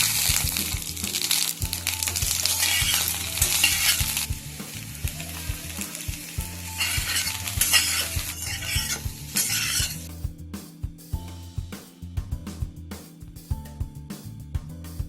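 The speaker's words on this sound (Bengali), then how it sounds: "এবার কড়াইতে সর্ষে তেল দিয়ে বেগুনটা ভেজে নেব অল্প সামান্য নুন দিয়ে" Eggplant pieces with a pinch of salt fry in mustard oil in a wok, crackling loudly as a spatula stirs and scrapes constantly with clinks. The sizzle eases partway through while the stirring goes on.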